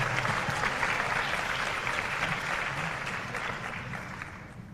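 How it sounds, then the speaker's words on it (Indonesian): Sustained audience applause at a Jakarta student council leaders' Q&A session with Anies Baswedan, many hands clapping in a steady dense wash that holds at an even level and tapers slightly toward the end, with no talk over it. "Sekali lagi beri tepuk tangan yang meriah."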